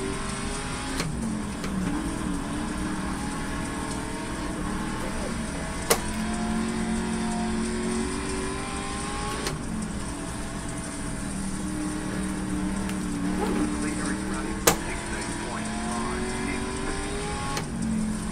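A race car engine in the iRacing sim drones continuously at racing speed, pitch rising and falling through gear shifts, with occasional sharp clicks, while someone talks intermittently over it.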